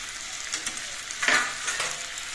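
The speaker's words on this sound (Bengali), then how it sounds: "প্রথমে আলু দিচ্ছি, মিষ্টি কুমড়ো, নারকেল আর ছোলা।" Potato, sweet pumpkin, coconut and chickpeas fry in a pan for a village-style pumpkin chhokka, giving a soft steady sizzle with a brief louder hiss as the ingredients go in, close and with no talking.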